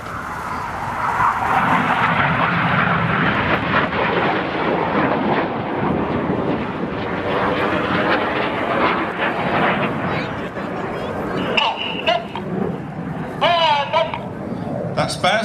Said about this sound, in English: As we see 7 and 8 barrel roll round 6's smoke trail.